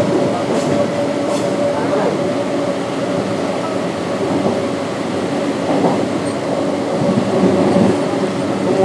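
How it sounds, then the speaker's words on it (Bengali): Kolkata metro train running, heard from inside the carriage: a steady loud rumble and rushing roar fills the whole stretch, with faint wheel clatter and occasional brief squeals. "ফাইনালি ট্রেনে উঠে গেলাম।"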